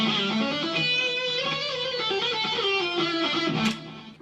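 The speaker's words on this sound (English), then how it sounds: "I'm going to solo the guitar so you can kind of hear the phrasing." Solo electric guitar playing a melody with sustained, bending notes in a continuous expressive line, clear and close, ending with a brief sharp noise before fading.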